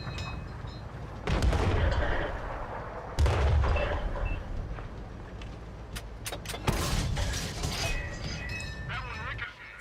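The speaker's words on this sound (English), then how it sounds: "French 105s bouncing off superior British armor since God knows how long." French 105 mm tank guns in World of Tanks fire as heavy booming blasts, two prominent shots followed by further distant impacts and mechanical clatter, with someone talking over the battle sounds.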